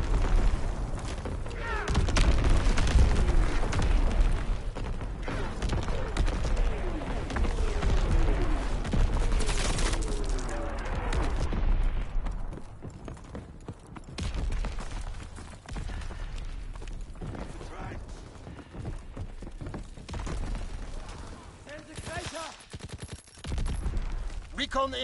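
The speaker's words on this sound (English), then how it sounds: "Incoming enemy artillery." Gunfire and artillery blasts from a Call of Duty WW2 hardcore team deathmatch, with dense bursts of shots and booms crowding the first half, then scattered firing and rumbling explosions continuing at a lower, uneven level.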